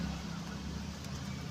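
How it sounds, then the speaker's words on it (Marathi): An auto rickshaw engine runs steadily from inside the cabin, a constant low rumbling drone with road noise, close and continuous. "रिक्षामध्ये बसलेला आहे काही रिक्षा चालू आहे"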